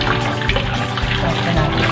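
Banana peels are washed by hand in a home kitchen, with a brief, continuous wash of splashing, running water close by.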